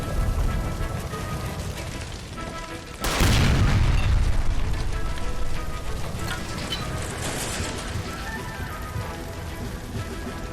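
A gas line blows up in the L.A. Noire game: a sudden loud boom at about three seconds, with a rumbling blast that fades over several seconds into a busy, crackling game soundscape of debris and ambience.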